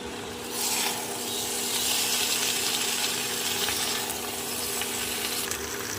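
Fried potatoes and young jackfruit sautéing in spiced masala make a steady, close sizzle with scraping stir strokes, loud and continuous throughout without talk.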